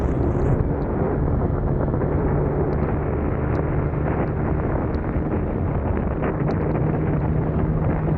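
Steady, loud wind rumbles against the microphone of an Insta360 camera. It is a continuous low buffeting roar for the whole stretch, with no speech.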